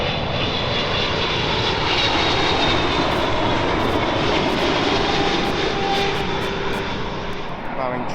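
An EgyptAir Boeing 777-300 jet from Cairo roars past at London Heathrow, a loud sustained engine whine and rushing rumble that holds steady throughout, with faint speech beneath.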